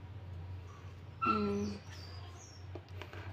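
A dog gives one short, high whimper lasting under a second over a low steady hum, followed by faint scattered clicks, close and with no talk.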